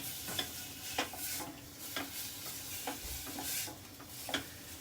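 Onions and peppers sizzling in a pan, a steady frying hiss broken by periodic scrapes and stirs of a utensil against the pan, close and alone with no voices.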